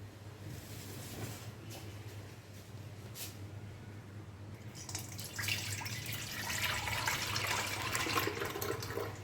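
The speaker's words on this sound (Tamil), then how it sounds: "இதை இப்போ நாங்கள் வடித்து எடுத்துக்கொள்ளுவோம்" Cooking water is drained from boiled ash pumpkin in a pan. Quiet background noise gives way midway to a louder, steady rush of pouring, splashing water that builds toward the end.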